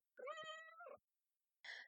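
A pet cat gives a clear, close meow lasting most of a second, then a short second meow after a brief pause, alone in a quiet room.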